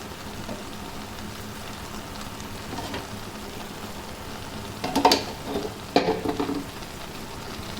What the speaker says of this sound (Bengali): এই পাশে আমার শাক ভাজি হচ্ছে